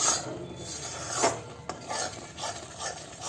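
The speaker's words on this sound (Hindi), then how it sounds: "इस तरह इसे लगातार चलाते हुए सेकते रहें।" A mohanthal halwa mixture, a traditional Gujarati sweet, is stirred and roasted in a pan over a low flame, giving soft repeated scraping strokes close by, with faint clinks of utensil against metal and no talking.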